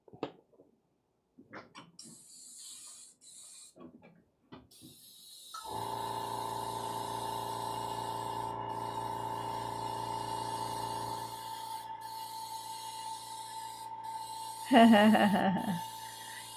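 An airbrush sprays paint in a steady, close hiss lasting several seconds, with a brief louder burst near the end. Faint talk and rustling are heard before it starts.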